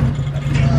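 A right-hand-drive Nissan S13 Silvia with a turbo runs with a steady, close engine drone and low rumble, lasting under a second with no clear rev rise.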